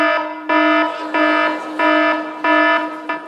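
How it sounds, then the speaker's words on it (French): An alarm clock ringtone plays loudly to a live audience as a pulsing electronic alarm tone, repeating in about five even bursts separated by short gaps. "Qui a ce réveil matin-ci?"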